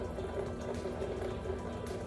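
Runoff water leaking from a shut-off basement spigot valve into a clean bucket, a steady low trickle and patter running continuously at moderate level with no talk.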